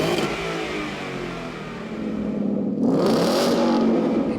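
A stock 2016 Ford Mustang GT with the 5.0 Coyote V8 revs in a garage, a steady idle that climbs into a louder, rising throttle blip partway through, heard close with no talking.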